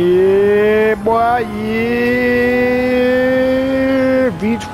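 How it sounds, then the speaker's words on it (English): Lamborghini Aventador LP 700-4 from 2011 with a V12 engine, racing in Gran Turismo 7, gives a loud steady high-revving drone with a quick dip near one second and another near the end. "V12 engine!"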